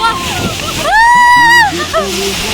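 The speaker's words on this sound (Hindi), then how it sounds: "तो गाइस कैमरे में पानी जा रहा है" Spray from a waterfall hits a camera, a rushing, hissing splash at close range, with voices talking and one loud drawn-out cry over it.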